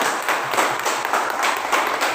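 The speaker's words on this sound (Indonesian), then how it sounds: "tepuk tangan dulu untuk kita semua" A class of third-grade pupils clapping together in an elementary school classroom, a steady dense patter of many hands at moderate volume with no talk over it.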